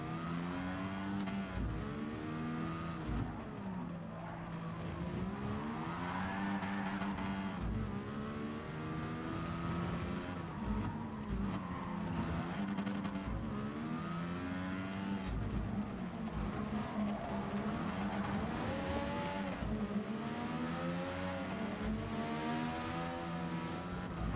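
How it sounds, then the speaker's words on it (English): Turbocharged race car engine in the driving game GT Sport, revving hard up through the gears with repeated climbing pitch sweeps and shifts, a loud, continuous engine drone with faint tire squeal. "So these cars were turbocharged. That's why there's a massive power band at the end of the rev limiter."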